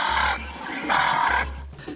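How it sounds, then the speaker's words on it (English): Played-back call of a local dove species used in a honey-hunting field experiment, heard as three loud, hoarse, cooing phrases in a row, each about half a second long, standing alone with no talk over them. "and the sounds of another bird, a local dove species."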